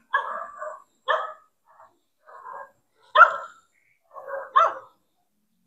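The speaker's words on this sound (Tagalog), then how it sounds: "Uy, mga aso." Several dogs bark in short separate bursts in a dark abandoned housing estate in Cavite, some louder and closer, others fainter, with quiet gaps between the barks and no talking.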